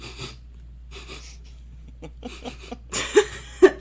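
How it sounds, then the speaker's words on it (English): Several short, loud sniffs and snorts come in bursts, separated by quiet breathing; the last few are sharp and close. "Very good podcasting is just sniffing loudly"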